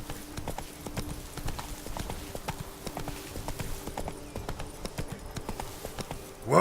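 Hooves of the horse Roach clip-clop at a steady trot in The Witcher 3, a continuous rhythmic clatter close by, with a brief louder burst at the very end.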